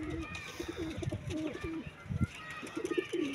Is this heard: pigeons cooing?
yes